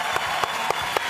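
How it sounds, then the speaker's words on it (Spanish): Studio applause welcoming Martín Cárcamo on a Chilean TV show, a steady short wash of clapping with a few sharper accented bursts at regular intervals. "Aplausos para Martín,"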